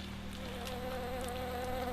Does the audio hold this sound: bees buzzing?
yes